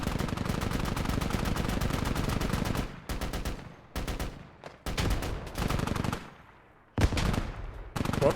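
Rapid automatic gunfire from the tactical shooter game Squad, with long sustained bursts and short separated volleys during a 26 vs 26 league match, loud and close with brief gaps between strings of shots.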